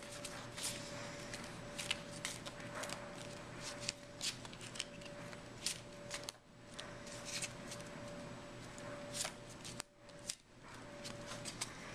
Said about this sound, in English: Okay, so then put it in the deck. I'm gonna shuffle.